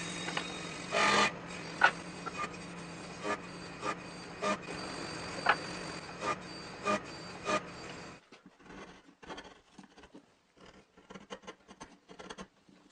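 Saw or rasp cutting a slot into a wooden engine base, a steady scraping stroke repeating in an even rhythm for about eight seconds, then stopping and giving way to scattered quieter taps and handling noises.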